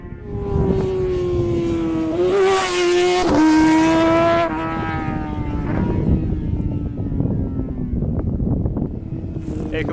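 Road-racing motorcycles, among them a Yamaha R1, scream past at speed on a course in Mexico, engine pitch rising and then dropping as a loud pass sweeps through, followed by more machines droning after it.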